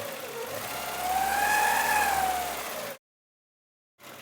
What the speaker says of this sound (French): Il y a toujours un léger claquement au moteur